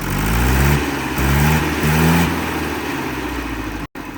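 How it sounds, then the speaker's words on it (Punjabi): A Mahindra 585 tractor engine revs in several surges, each climbing in pitch and dropping back, then settles into a steady, loud idle with a brief cut near the end. "ਟਰੈਕਟਰ ਆਵਾਜ਼ ਚੈੱਕ ਕਰੋ ਬਈ ਟਰੈਕਟਰ ਦੀ ਕਿੰਨੀ ਤਿਆਰੀ ਹੈ"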